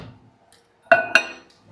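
Frozen red berries clink into a glass or ceramic bowl in a kitchen, two sharp close clinks a quarter second apart, with light handling noise and no talk.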